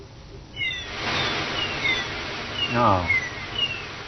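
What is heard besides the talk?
sea and seagull sound effect generated by BBC Micro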